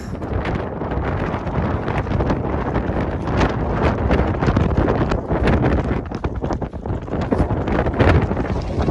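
Strong, steady wind roars and buffets against the microphone throughout on a wet mountain summit, Katahdin in Maine, a dense rumbling gust noise with no voices.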